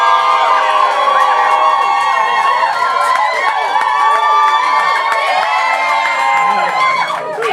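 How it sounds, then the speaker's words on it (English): Roast battle crowd in London at a grand final cheering for Steph: loud sustained cheering, whooping and shrieking from a large audience, dense and continuous throughout. "Give me a cheer if you think Steph won!"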